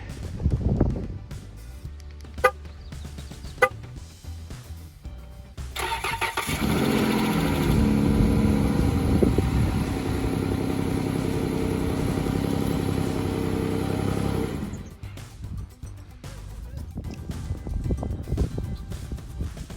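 A Pentastar 3.6 liter V6 rated at 285 horsepower runs close by: a steady, loud engine drone holds for about eight seconds, framed by quieter handling noises and a couple of sharp clicks before it.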